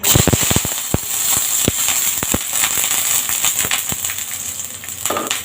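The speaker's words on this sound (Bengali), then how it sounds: "এই রসুনটা বেশ সময় করে করে ভাজতে হবে আমাকে" Garlic frying in hot oil in a pan gives a loud, steady sizzle full of sharp popping crackles, densest at first and then thinning to scattered pops.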